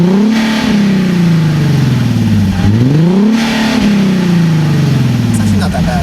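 A Nissan 370Z Nismo fitted with AAM resonated short-tail exhaust is heard from outside. Its engine revs up twice and falls back each time, loud and close, over a steady idle.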